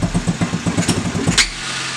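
A small go-kart engine idles with a steady, rapid putter, close and fairly loud, ending with a brief sharp noise before settling.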